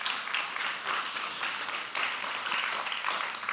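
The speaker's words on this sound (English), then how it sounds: "We can applaud." A church congregation applauds the installation of a new lead pastor, many hands clapping in a steady, moderately loud wash with slight pulsing surges throughout.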